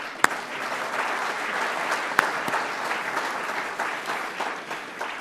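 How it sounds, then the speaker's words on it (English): An audience at a Rotary club meeting gives a steady round of applause. Moderate, even clapping runs for about five seconds, with a couple of sharper claps standing out near the start. "Let's give them a round of applause."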